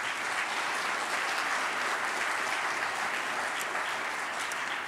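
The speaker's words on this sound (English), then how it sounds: "A big round of applause for my staff." A conference audience applauds the event staff at a 2010 waterfront conference, with dense, steady clapping from a large crowd sustained evenly throughout and no voices on top.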